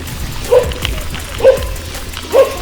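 Dogs barking at night at a passing cyclist: three sharp barks spaced about a second apart, fairly distant but clear over a low rumbling background.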